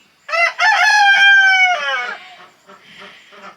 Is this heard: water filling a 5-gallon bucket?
no